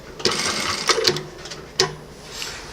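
An MS 9800-K industrial lockstitch sewing machine runs briefly in backstitch, whirring with sharp mechanical clicks and clacks at close range before settling into a quieter hum.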